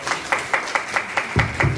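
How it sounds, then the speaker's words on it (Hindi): An audience at a business training session in Lakhimpur claps in an evenly spaced, rhythmic series of sharp claps, about five per second, fairly close and moderately loud. "एक बार ताली बजाओ यार।"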